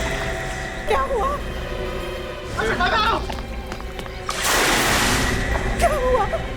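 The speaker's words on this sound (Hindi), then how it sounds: "ये तो किसी के पानी में गिरने की आवाज है।" A person falling into water makes a loud broadband splash in the middle, surrounded by voices and background activity.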